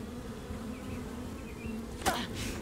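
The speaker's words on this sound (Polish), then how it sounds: "i patrzcie, w ogóle mamy pszczoły!" Bees buzzing in the VR combat game Blade and Sorcery, a faint steady insect drone running throughout with a brief louder rustle near the end.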